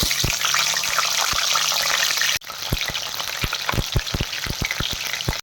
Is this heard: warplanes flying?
no